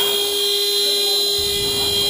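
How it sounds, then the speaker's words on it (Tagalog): A steady, loud electronic shot clock buzzer drones unbroken through a basketball game between Natividad and Ebus, held over a faint crowd and court murmur. "Wait for the buzzer."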